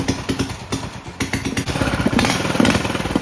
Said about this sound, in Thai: มาเราก็มาลองสตาร์ทกันดูนะครับว่า ติดง่ายขนาดไหนเบานิ่มไหมนะครับ เปลี่ยนคอยใหม่แล้วนะครับ ติดง่ายมากครับทีเดียวติด